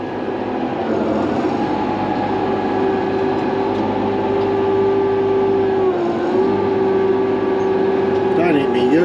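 A Challenger tractor drives out of a shed with a steady engine drone and a sustained whine that dips briefly mid-way, loud and close, while a person talks over it.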